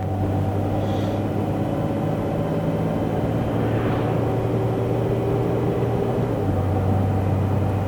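A used car drives along with a steady, loud low engine and road drone that stays even throughout; no distinct gear changes stand out.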